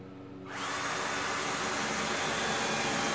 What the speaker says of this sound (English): Put a couple holes about 1 inch away from the edge.